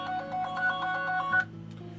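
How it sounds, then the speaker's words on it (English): A phone ringtone chirps in a short run of bright repeated electronic tones, fairly clear and close, then stops abruptly, leaving a faint steady hum. "That was my phone, by the way."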